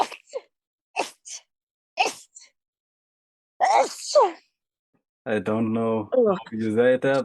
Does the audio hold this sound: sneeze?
yes